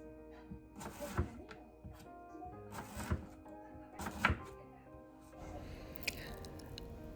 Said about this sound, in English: After washing the pears well, I cut the pear in half